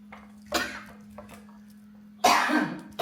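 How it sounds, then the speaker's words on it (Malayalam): A person coughs indoors at a meal: two sharp coughs separated by a quiet stretch, the second louder and harsher, with faint clinks and a steady low hum behind. "ഇതെന്താ വല്ലാത്തൊരു ചുമ."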